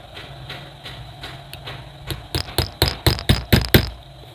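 A nail is driven in by striking a bolt held against it while building an automatic switch for a cooler water pump. After quiet handling come about eight loud, close metallic blows that grow quicker and more forceful.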